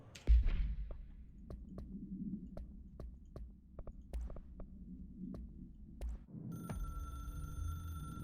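Hotline telephone in the video game Control gives a sharp ring near the start, followed by faint repeated clicks and a low rumble, then a sustained electronic ringing tone at the end.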